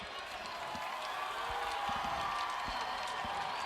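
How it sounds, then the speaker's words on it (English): A crowd at a high school homecoming football game between Kennedy and Minneapolis DeLaSalle gives a steady, distant roar of cheering, with scattered claps and thumps and some faint voices in the mix. "Crowd starting to get going for the first time"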